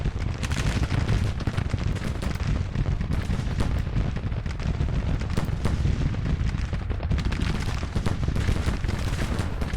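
Relentless battlefield din from Grand Tactician: The Civil War, dense artillery booms and rolling musket and cavalry gunfire blending into a loud continuous roar throughout.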